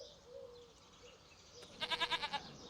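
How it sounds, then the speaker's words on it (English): Goats on a farm in Farming Simulator 25, a short series of five or six quick pulsing bleats at moderate distance over a quiet background. "I wonder if that's the goats."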